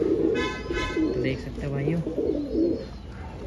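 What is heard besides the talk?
pigeon cooing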